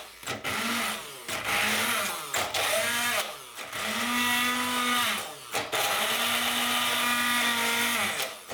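A kitchen blender purees bread and water into a thickener for Hungarian beef goulash, whirring loudly in several pulses, each one revving up and cutting out with short gaps between.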